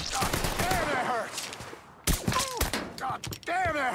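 Gunfire in Mafia 3 on PS4: several sharp shots and short bursts cut through a game mix of voices and groans, loud and close, with pauses between volleys.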